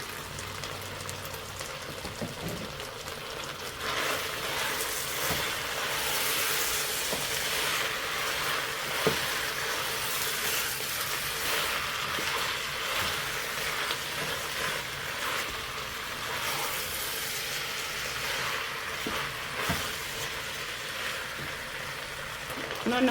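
Onions going into a hot pan for fried small fish with peanuts, giving a steady broadband sizzle and crackle that holds at an even level for the whole stretch, with faint talk now and then in the background.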